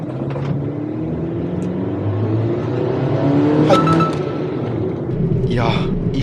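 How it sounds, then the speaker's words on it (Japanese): A small Toyota Town Ace camper van accelerates hard from a stop at a traffic light, its engine note rising steadily from inside the cabin while someone speaks over it. "次信号止まったら0から40まで強めに踏んでタイム計測してみます"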